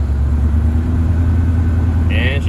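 An old truck engine that has not run in over 20 years starts and settles into a loud, steady close-up idle with a deep low rumble, followed by a brief higher chirp near the end.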